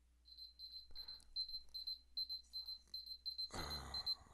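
An alarm clock rings with quick repeating bursts of high electronic beeps, steady and fairly close, before a loud rustling clatter takes over near the end.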